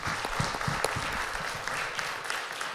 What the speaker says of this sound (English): we want to welcome our visitors with a hand clap of praise